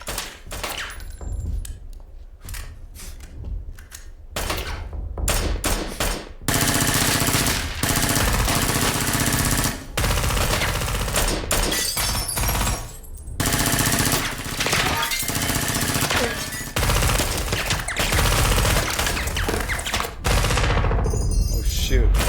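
Sci-fi short film The Leap fires rapid bursts of gunfire in dense, repeated volleys separated by brief gaps, mixed with loud soundtrack effects and occasional voices.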